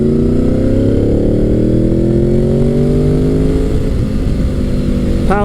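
A Gen 5 Honda VFR800 motorcycle, a 1998–2001 model, pulls hard up through the rev range, its engine note rising steadily and loudly from close by. The sound is continuous and builds throughout.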